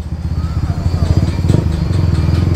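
A Sniper 155R motorcycle engine revs and burbles up close while gears are shifted, its low throbbing note rising and falling steadily throughout.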